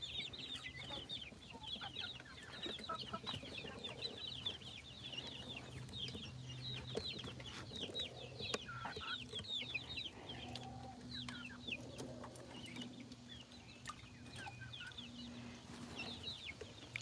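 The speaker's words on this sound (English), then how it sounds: "There's my little hen that is laying the eggs." Backyard chickens, including a laying hen and a rooster, cluck and chirp softly and repeatedly against a low background hum, with no one talking.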